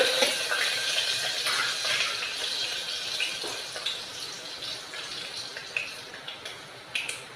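Urad dal and mustard seeds fry in hot oil, making a steady hiss broken by scattered sharp pops and crackles, heard up close with no talking.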